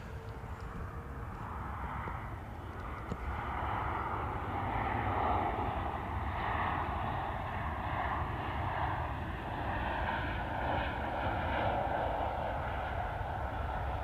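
Jet2's 37-year-old Boeing 757 arriving, its engines a broad distant roar with a low rumble and shifting whine that swells gradually and holds, heard alone without talk.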